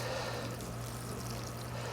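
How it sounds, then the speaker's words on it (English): Water pours from a watering can onto newly planted pots, a faint, steady splashing trickle with a low hum underneath, continuous and without talk. "I'm actually going to just water them in now for real"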